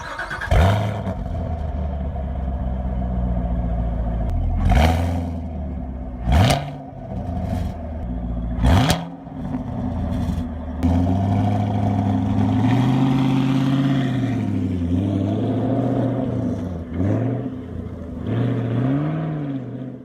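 A 2018 Ford Mustang GT with a 460-horsepower small-block V8 gives several sharp, loud throttle blips over a deep idle, then revs in a sustained, rising and falling snarl up close.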